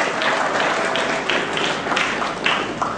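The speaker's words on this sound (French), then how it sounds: "Sous vos applaudissements s'il vous plaît." A conference crowd applauds a delegation with steady, dense clapping throughout that stays even and full with no break, heard alone without speech.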